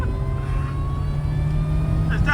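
Mercedes SLK fitted with a budget turbo build, its engine droning steadily at mid revs with a thin rising whine laid over the low rumble, close and continuous throughout.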